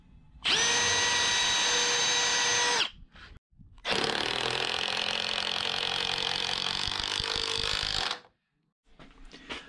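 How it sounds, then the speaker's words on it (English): Power drill driving lag screws into the walls of a full-height teardrop camper, two long loud whirring bursts separated by a short pause, close up, followed by faint brief sounds. "I'm also going to put a couple up here as well that I forgot to drill for"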